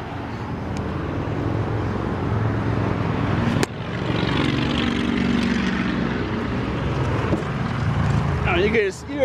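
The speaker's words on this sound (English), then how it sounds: "Oh, you guys hear those motorcycles? They're all over the place." Steady droning engine roar from motorcycles riding past during a motorcycle rally, continuous and fairly loud throughout, with a sharp knock midway and a brief higher whine near the end.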